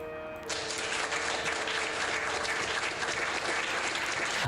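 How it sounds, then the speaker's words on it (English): Loud, steady applause from a studio audience on a talk show, a dense wash of clapping that swells in after a brief moment and carries on without a break. "I'm gonna give you the claps"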